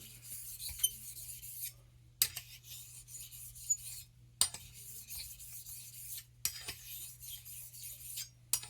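A straight razor sliding in repeated strokes across Arkansas sharpening stones, each pass a bright, close-up rasping hiss broken by short pauses, in a steady back-and-forth rhythm with no talking.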